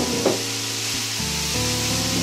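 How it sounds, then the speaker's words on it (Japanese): Burdock root stir-fry sizzles steadily in a pan as it is stirred, a continuous close frying hiss in a Japanese home kitchen, with faint scraping of the stirring and no speech. "まずは混ぜますね。"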